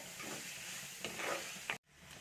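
Onion, garlic and ginger sautéing with masala in a pan, a steady close sizzle broken by a few sharp scrapes of stirring, then a brief dropout before the frying hiss resumes.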